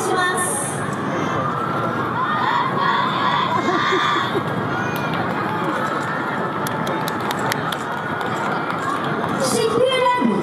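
Crowd cheering at a Yosakoi dance festival, a continuous roar of voices, shouts and chatter with occasional high calls and whistles, loud and close throughout.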